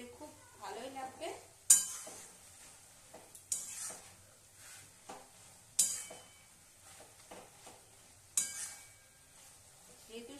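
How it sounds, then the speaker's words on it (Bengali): Bottle gourd greens, sweetened with a little sugar, are stirred in a pan: a spatula scrapes sharply against the metal about every two seconds, with soft sizzling and light clinks between strokes. "একটু নাড়াচাড়া করে আমি নামিয়ে দেব"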